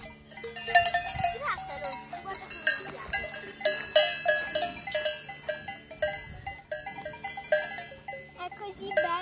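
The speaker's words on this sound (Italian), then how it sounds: "Sono tutte mucche, sai." Cattle with cowbells on an alpine pasture near Monte Cermis, Cavalese, in Val di Fiemme, the bells clanking irregularly and close by over a steady field of outdoor sound, with people talking now and then.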